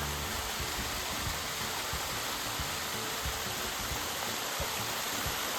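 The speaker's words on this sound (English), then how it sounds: "Pretty awesome cliffside waterfall right along the trail." A cliffside waterfall beside a hiking trail on the West Highland Way between Tyndrum and Inveroran, giving a loud, constant, broadband rush of falling water with no talking.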